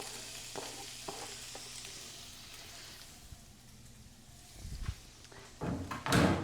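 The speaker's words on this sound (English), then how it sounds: "So, to get started, I'm going to saute my vegetables." Red peppers, onions and mushrooms sauté in a pan with a soft, steady sizzle, broken by a few light scraping stirs and louder clatters of the utensil near the end.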